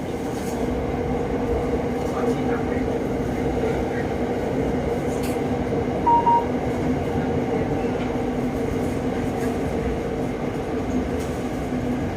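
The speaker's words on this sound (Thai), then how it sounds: "ถึงปลายทางแล้วนะครับสถานีกลางกรุงเทพอภิวั์นะครับ" A Red Line electric train arrives at Krung Thep Aphiwat station in Bangkok, heard as a steady rumbling hum from inside the carriage with a faint brief tone partway through.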